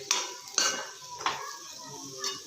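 A spoon scrapes and clinks against a pan while capsicum palya curry is stirred, four distinct metallic strokes spaced unevenly, close and moderately loud with a soft sizzle beneath and no voices.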